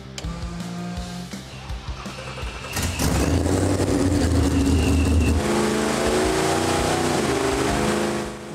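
A 496 cubic inch stroker big-block Chevy in an S10, run on E15 fuel, sits strapped to a dyno, idling loudly before the revs jump sharply around the third second and hold in a roaring, sustained climb with no talk.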